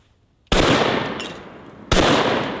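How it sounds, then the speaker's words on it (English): Two loud, close blasts from a sawed-off over-under double-barrel shotgun fired outdoors, the first after a brief quiet moment and the second about a second and a half later, each trailing off in echo. "two shots is the perfect amount to run the clay popper"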